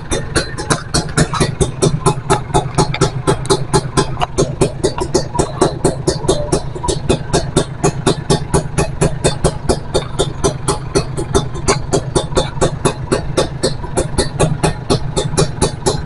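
A motorcycle engine idles at a workshop after sitting unused for four days, a rapid steady chugging pulse, loud and close, continuing unbroken throughout.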